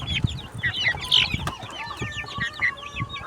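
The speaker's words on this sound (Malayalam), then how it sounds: "എല്ലാ കോഴിക്കളും ഇതിലുണ്ട്." Chickens at a poultry farm with several breeds, including Aseel and Giriraja, clucking and calling close by in short overlapping bursts, with no talk.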